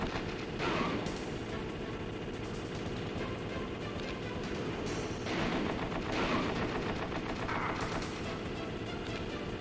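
An enemy gunner fires a machine gun in Metal Gear Solid, with sustained rapid bursts of game gunfire rattling continuously alongside mechanical game sounds, loud and dense throughout.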